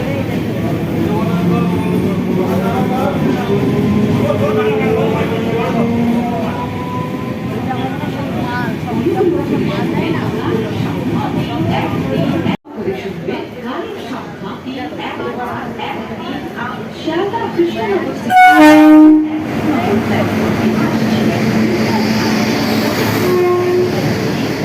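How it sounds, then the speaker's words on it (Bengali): A through train rumbles past Dum Dum station in a long, loud, continuous roar with wheel rattle, then gives a brief horn blast near the end while people nearby talk. "এটাই থ্রু ট্রেন যাচ্ছে।"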